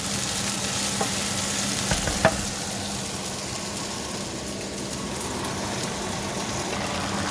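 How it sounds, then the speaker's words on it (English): Tomatoes and okra frying in a pan, a steady close crackling sizzle with a few stirring clatters early on, continuous without talk. "I've thrown in the tomatoes there, and it's nice. It's just cooking now"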